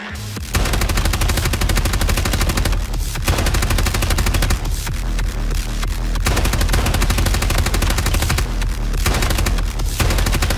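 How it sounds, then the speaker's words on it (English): Sustained automatic gunfire in the tactical shooter Ground Branch rattles loudly and nearly continuously for about ten seconds, with only a few brief gaps between bursts. "why did he take so many shots?"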